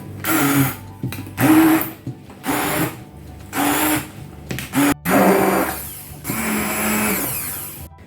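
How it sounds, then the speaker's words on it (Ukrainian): An immersion blender whirs in short bursts through a sugared cheese mixture, starting and stopping about seven times, loud and close with brief pauses between pulses. "І тепер погружним блендером нам потрібно це все перебити."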